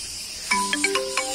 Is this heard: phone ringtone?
yes